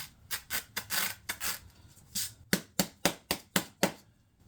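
Soft body filler on a Jaguar XKR repair is hand-sanded with 80-grit abrasive, heard up close as roughly fourteen rasping back-and-forth strokes that settle into a quick, even rhythm toward the end, with no voices.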